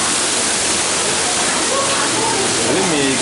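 Small waterfalls pour in a loud, steady rush at an underwater world park in Langkawi, a dense wash of falling water that fills the whole clip.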